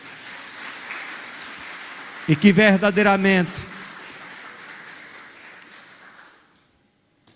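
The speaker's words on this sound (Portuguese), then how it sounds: "Você pode aplaudir o Senhor." A church congregation applauds in a broad, steady wash of clapping that runs for several seconds and then fades out, with a voice speaking over it partway through.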